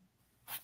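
A single short, sharp sneeze bursts out at the end of a quiet room moment, close and brief.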